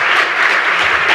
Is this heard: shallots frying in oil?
no